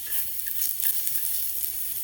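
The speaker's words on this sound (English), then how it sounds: "So I drop in the oil and saute mushroom." Mushrooms and red onion sauté in hot oil with a bright, steady sizzle and light crackling throughout, close and moderately loud.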